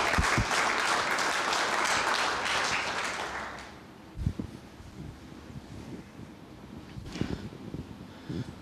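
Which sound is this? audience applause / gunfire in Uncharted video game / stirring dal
audience applause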